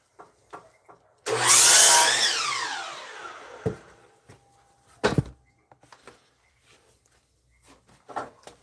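Router chamfering the edge of a wooden planter, a loud whining cut of about three seconds that sweeps downward in pitch as it spins down, followed by scattered knocks and handling noises.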